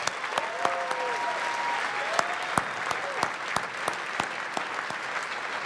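A round of applause from an audience at a special presentation, dense continuous clapping with sharp individual claps standing out, and faint whistles or cheers sliding over the steady roar.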